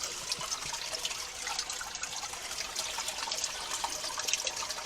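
Clear spring water flowing steadily out of a springhouse, a continuous soft trickling wash close by with no voices.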